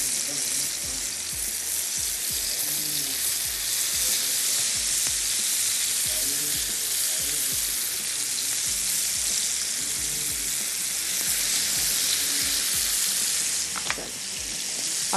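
Pieces of Italian chicken sizzle steadily in a hot grill pan, a dense continuous frying hiss that stays close and even throughout, with a brief clink near the end.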